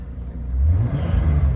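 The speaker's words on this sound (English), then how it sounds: "Rev it all up and everything." Close-up rumble of a 1988 BMW 528e engine being revved, the low drone rising sharply partway through and holding at a louder, throatier pitch, with no voices.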